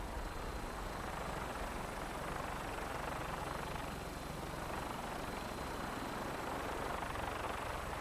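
Vertibird from Fallout 4 lifting off, a steady broadband rotor and engine roar that holds constant and loud throughout with no voices over it.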